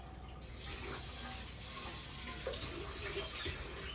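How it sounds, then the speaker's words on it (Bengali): Rice being washed in water with a tap running, a continuous close splashing and trickling of water with faint sloshing throughout and no speech. "চালটা আমি ধুয়ে নিলাম।"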